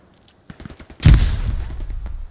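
A grenade detonates in the World War II shooter Hell Let Loose, one loud close blast with a long rumbling tail, after a few faint scattered pops.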